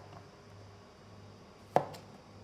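A knife cuts a zucchini into thin rounds on a cutting board, a single crisp chop heard close up against a quiet kitchen background, followed by a faint second tap.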